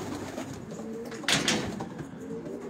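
Homing pigeons kept for breeding give a soft, low cooing murmur, with a slightly louder burst of bird sound in the middle; no one speaks.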